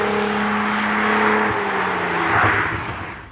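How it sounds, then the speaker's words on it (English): A Cadillac CT4-V Blackwing V6 engine rumbles loudly and steadily close by, its low burble swelling briefly with a few rough backfire pops. "an engine that makes loud, boisterous noises as you can hear it burbling and backfiring right there"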